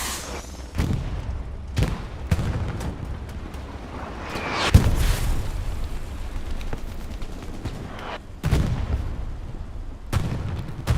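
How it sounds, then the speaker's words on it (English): Explosions and gunfire in Hell Let Loose, a competitive 49v49 match at Carentan Canal Crossing: repeated loud booms and sharp blasts, near and far, over a constant rumbling battlefield din, with a big rocket-like explosion near the middle. "Basil just gets rocketed"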